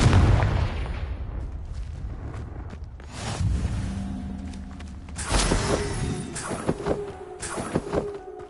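A Confringo spell explosion in a PlayStation 5 game goes off as a deep boom with rumbling debris, followed by scattered crackling impacts and thuds at moderate loudness.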